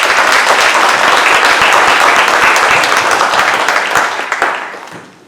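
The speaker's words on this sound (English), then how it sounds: "Let's give her a small one. Round of applause." An audience at a caregivers' workshop on empathy fatigue gives a dense round of applause, loud and sustained for several seconds before tapering off at the end.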